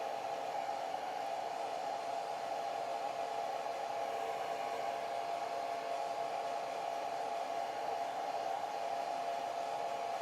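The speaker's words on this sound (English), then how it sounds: "Let me turn the blow dryer on" A hair dryer blows a continuous, even whirring rush of air over a watercolor painting for the whole stretch, loud and close with no pauses and no voices.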